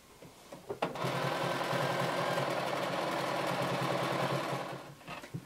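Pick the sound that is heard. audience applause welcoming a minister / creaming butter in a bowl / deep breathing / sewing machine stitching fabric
sewing machine stitching fabric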